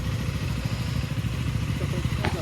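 Motorcycles, three of them alongside three other vehicles, idle and rumble together at the start of a group ride in Andhra Pradesh, a steady loud close engine drone throughout.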